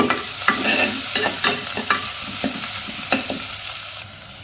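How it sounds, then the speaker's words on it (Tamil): Onions and green chilies fry in a pan while being stirred, giving a steady close sizzle broken by repeated scraping clicks of the spoon, with no talking. "வெங்காயம் பொன்முருகலாக வதங்க வேண்டியதில்லை, பச்சை வாடை போனால் போதும்"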